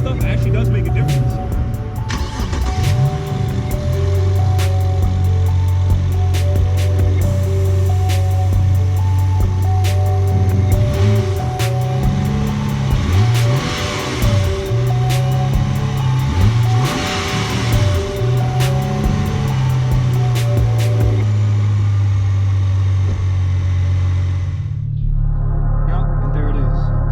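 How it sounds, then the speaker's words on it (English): Road traffic passes nearby, with several vehicles rising and fading one after another under a steady engine drone before the sound cuts out near the end. "I'll wait for all this traffic to pass"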